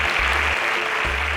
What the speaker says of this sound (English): Kindly let's give them a very deserving round of applause